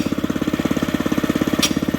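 A small petrol engine on a homemade wood elevator, started with a pull cord whose starter struggles to catch for lack of lubrication, runs steadily with a fast, even, chugging thump close by.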